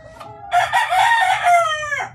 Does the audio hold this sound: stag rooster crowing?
yes